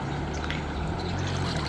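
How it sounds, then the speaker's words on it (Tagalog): Rapid river water rushing steadily beside a riverbank, a dense, constant wash of flowing noise with no break. "Rapid water."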